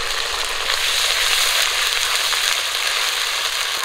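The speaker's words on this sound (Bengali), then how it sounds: "গরম তেলে দিয়ে দিচ্ছি পাঁচফোড়ন, কাঁচা লঙ্কা চেরা, পেঁয়াজ কুচি, বেটে রাখা পেঁয়াজ, আদা," Panch phoron, slit green chilli, chopped and ground onion, ginger and garlic frying in hot oil for an egg and cabbage dish, a steady, loud, bright sizzle with fine crackling throughout.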